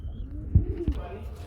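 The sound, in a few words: pigeons cooing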